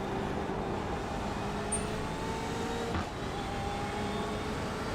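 Race cars at the green-flag start of a Le Mans Series race at Sebring in the iRacing video game, a steady engine drone with faint rising whines from cars accelerating together, no voices over it.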